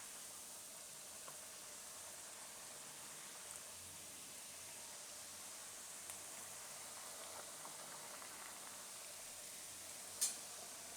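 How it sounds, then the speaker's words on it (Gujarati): Moong dal puri deep-frying in hot oil over a low flame gives a steady, quiet sizzle of fine bubbling with a few faint crackles and one brief sharper pop near the end. "આને આપણે ધીમા ગેસે તળશું."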